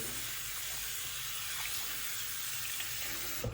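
Steady running water pours into a sink for washing clothes, a continuous broadband hiss with a low rumble, alone and fairly even throughout.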